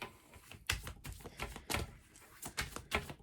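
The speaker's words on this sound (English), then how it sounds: "I'm just going to take the time and shuffle." Tarot cards are shuffled by hand in a series of quick, close riffling bursts and soft slaps, irregular in rhythm, with no voice.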